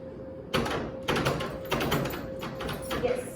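A door swung open and shut several times, each move landing as a loud bump or clatter over a steady low hum.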